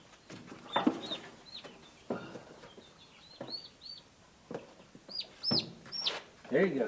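Young chicks being moved from a box into a brooder give high, bright peeping chirps in scattered bursts, fairly close, with brief handling rustles and a person speaking softly.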